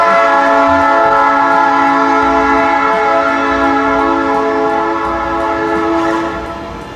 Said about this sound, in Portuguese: Aqui no campus a gente tem problema do trem